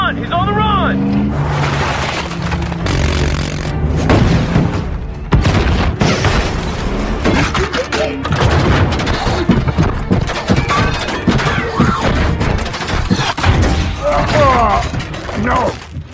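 Missiles firing and heavy explosions in a Transformers action scene, with booming blasts, crashing debris and rumbling vehicles dense throughout, loud and continuous under shouted voices and music.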